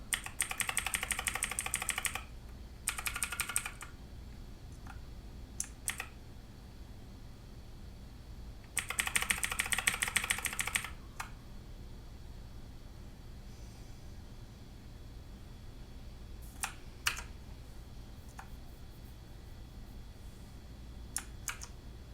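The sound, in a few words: keys pressed on Mechanical Eagle Z-77 RGB keyboard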